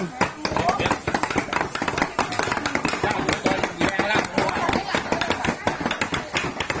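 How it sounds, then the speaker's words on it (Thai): Quick, uneven chopping strikes of pork on a cutting board for larb, close and busy, with people talking over the rhythm throughout. "เสียงเขียง"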